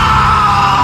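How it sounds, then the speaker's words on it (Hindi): A loud, frightened scream bursts out in a Hindi audio drama, a short shrill cry that holds steady for under a second. "एक अजीब सी डरी हुई चीख निकली"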